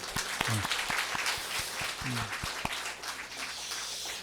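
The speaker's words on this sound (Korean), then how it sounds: "박수" Congregation applauding during a Sunday worship service in a Korean church, steady dense clapping filling the space for several seconds with a few brief voices underneath.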